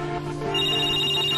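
A telephone rings with a short, loud, steady electronic tone that starts partway through and holds to the end, with no voices.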